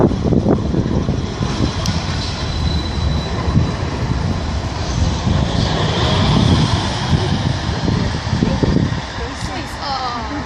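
A Manchester Metrolink tram passes at Deansgate-Castlefield stop, a loud continuous rumble of wheels on rails with some high squealing, close by, with someone speaking over it.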